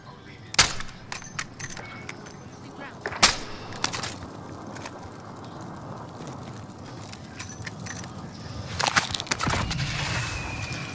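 Explosions from a cluster strike in Call of Duty: Modern Warfare, a few sharp separate blasts scattered over ambient game noise, with a burst of impacts near the end and faint background chatter.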